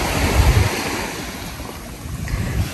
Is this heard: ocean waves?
yes